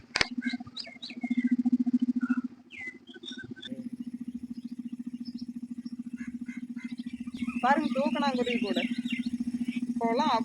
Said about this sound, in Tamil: எங்கேயாவது ஒன்று தான் கூடு கட்டுது சிட்டுக்குருவி